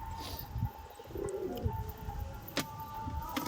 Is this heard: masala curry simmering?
no